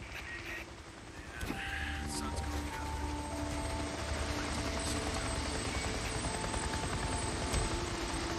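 A helicopter in the video game Days Gone drones steadily throughout, a dense continuous rotor and engine roar with faint tonal hums layered in.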